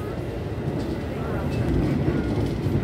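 The Argo Cheribon train passes straight through a station, heard from inside as a loud, continuous low rumble and rattle that swells slightly toward the end, with a faint voice underneath.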